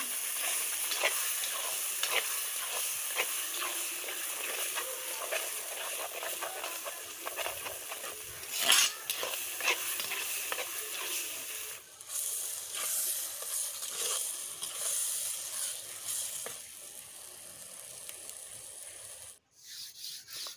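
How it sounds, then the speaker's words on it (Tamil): Ground spice paste being sautéed in a pan for banana flower pickle, a steady close scraping and stirring hiss with a brief louder scrape midway and a short dip near the end, with no talking. "இப்போ நம்ம இந்த அரைச்சி விட்டது எல்லாத்தையும் நம்ம சேர்த்து வதக்கி விடுவோம்"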